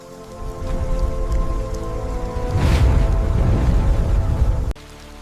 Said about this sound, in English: Rain approaches the savanna.